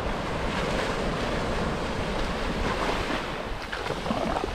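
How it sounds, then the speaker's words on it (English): Surf rolling onto a Gulf of Mexico beach, a steady loud wash of breaking waves with wind buffeting the microphone throughout, no voices. "Beautiful sound of the water."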